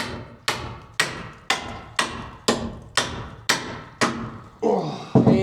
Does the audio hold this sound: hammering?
yes